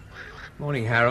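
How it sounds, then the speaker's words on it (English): A roller, or blue crow, call used as a BBC radio drama sound effect: a harsh, nasal, honking cry rises loudly right after a man's brief spoken greeting. "It's a blue crow, Vicar."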